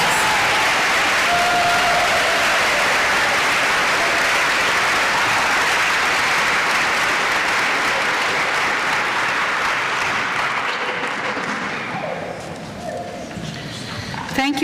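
Sustained applause from a large audience at a college nursing pinning ceremony for graduates, dense and steady for about twelve seconds before tapering off near the end.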